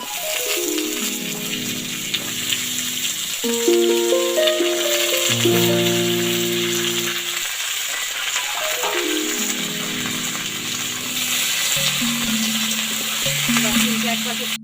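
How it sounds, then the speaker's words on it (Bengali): Pumpkin pieces fry in a pan while prawns with Malabar spinach are being cooked. A steady, close sizzle runs throughout with light stirring rattles, under soft melodic background music. "কুমড়ো ভেজে নিচ্ছি"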